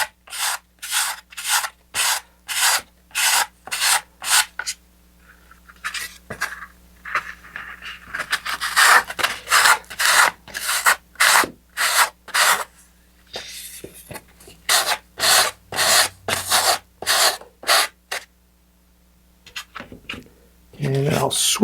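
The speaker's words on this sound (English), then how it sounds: "120 grit sandpaper to start. You can see as I'm rolling it over, I'll flip it over and then do the other side." A wooden rocket part is rubbed with 120 grit sandpaper in a quick run of rhythmic rasping strokes, close and loud, with short pauses between bursts.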